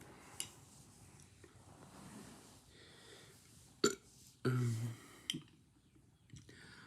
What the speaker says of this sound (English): you don't burp into someone's face